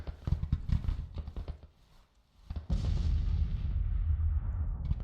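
Artillery fire in Grand Tactician: The Civil War, with rapid dull thumps of distant cannon rolling at first, then a brief lull before a loud sustained roar of massed guns takes over.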